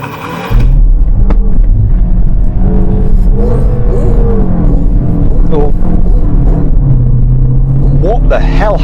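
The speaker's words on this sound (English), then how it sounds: "Launch control is active." A MINI launching hard under launch control, its engine note climbing and shifting steadily over several seconds at close range, loud and continuous with a brief transient near the start and rising whine near the end.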